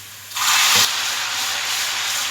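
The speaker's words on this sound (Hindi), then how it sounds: "और अब इसमें मैं पिसा हुआ लहसुन डालूँगी" Ground garlic drops into browned onions and whole spices in a pan, a sudden loud hissing burst that settles into a steady, softer sizzle.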